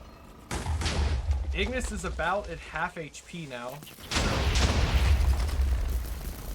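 Loud rumbling explosions and booming bursts from a Minecraft 1.20.1 mob battle pitting Magispellers against Ignis, with one dense broadband blast near the start and another heavy sustained roar at the end, while someone talks over the middle.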